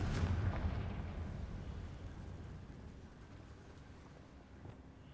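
Spell explosion in the video game Hogwarts Legacy, a deep booming blast at the start that rumbles and slowly fades into a low, windy tail.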